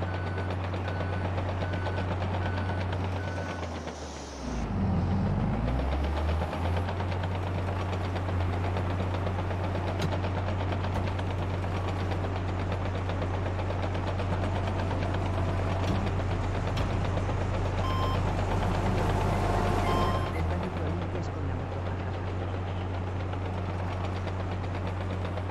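A bulldozer in a video game, on a train-track stretch of the AlpineGold map, drones with a steady low, heavy engine rumble while it drags earth, its tone dipping briefly near the start and then holding loud and constant throughout.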